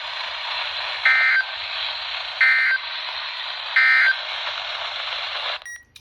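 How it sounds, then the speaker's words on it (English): A weather radio warning alarm tone sounds during a National Weather Service test. It is a loud, steady electronic tone, broken three times by brief higher-pitched pulses, and it cuts off near the end. Nobody speaks. "the National Weather Service has just activated the public warning alarm tone in the test of"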